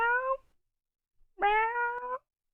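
A cat gives two clear meows, close to the listener, with a short gap between them. It is heard indoors in a room with no other sound.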